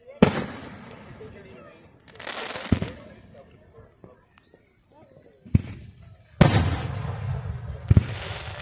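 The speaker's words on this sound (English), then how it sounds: "Enjoying the fireworks?" Several loud fireworks bursts boom at intervals, each with a sharp crack and crackling tail, while people talk in the background between blasts.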